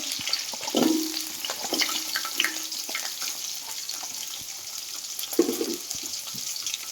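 Onion and green chillies sauté with fried fenugreek in hot oil, giving a soft steady sizzle broken by a few scraping stirs of a spoon against the pan.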